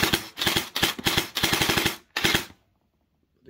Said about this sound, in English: the easiest way to do it is just shoot it out